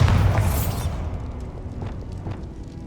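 In the Hogwarts Legacy video game, a Bombarda spell goes off as one loud explosive burst with a whooshing edge that quickly fades into a rumbling decay and faint scattered debris.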